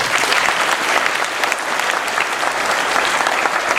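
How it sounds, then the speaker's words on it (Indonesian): Steady, dense applause from a crowd, loud and continuous throughout with no pauses. "Jadi tepuk tangan untuk Anda semua."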